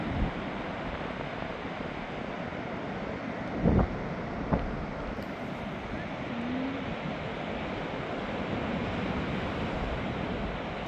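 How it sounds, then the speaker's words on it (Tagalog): A continuous roar of heavy surf at Towan Beach, Newquay, Cornwall, big waves crashing and washing steadily, with a couple of brief louder thuds. "Yan na, laki ng alon yan."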